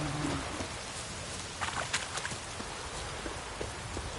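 Steady rain pours down across a field in The Witcher 3, a dense even hiss of falling drops with a few brief brighter patters, continuous and fairly close throughout.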